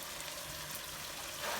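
Sliced onion frying in a pan for a Kerala chicken roast makes a soft, steady sizzle, faint and close, with a slight swell near the end.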